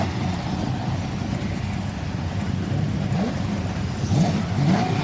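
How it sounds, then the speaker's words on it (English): Safety car pulling out onto a race track during a BCV8 championship race, engine revving and rising in pitch with a few accelerating sweeps, mid-distance over a steady background roar, without speech. "The safety car, as you can see, is just squeaking out onto the track."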